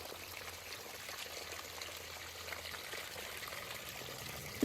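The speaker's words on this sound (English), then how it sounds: "There is a log with the top cut out of it, with water running through it." Water running through a hollowed-out log in Cimarron Canyon, a faint steady trickling pour heard from close by, continuous and quiet, with no voices.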